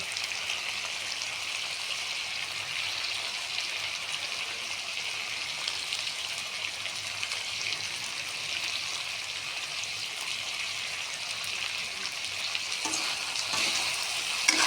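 Ground cumin and spices frying in oil in a pan, a steady close sizzle like light rain running throughout, with a few soft stirring knocks near the end and no voices.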